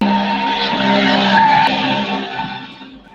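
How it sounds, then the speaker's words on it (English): A loud motor vehicle roars past behind someone on a call, a sustained engine and tire noise that swells and then fades over a few seconds. "Is that a motorcycle"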